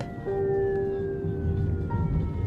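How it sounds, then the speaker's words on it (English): A siren wails at a distance with a long, slowly falling tone over low traffic rumble, steady and moderately faint. "That evening, we heard sirens."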